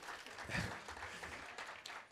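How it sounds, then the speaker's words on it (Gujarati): An audience at a Gujarati poetry event applauding two poets, a faint, distant burst of clapping lasting about two seconds. "એકવાર જોરદાર તાળી બંને માટે થઈ જાય"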